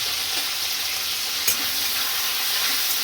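Tomatoes frying in a pan for tomato chutney in a home kitchen, a constant close, bright sizzle with a small clink of stirring midway and no talking.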